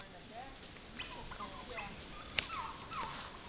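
Turkeys on a farm, loose in the woods outside their fenced pen, let out several faint, distant gobbles and calls over an outdoor hiss.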